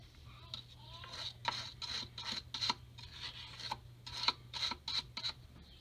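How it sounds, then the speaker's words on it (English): A wire brush scrubs throttle body bolts clamped in a vise, giving quiet, close, irregular bursts of scratchy rasping strokes over a faint low hum. "It's a matter of throwing the 4 bolts in a vise, hitting them with a wire brush"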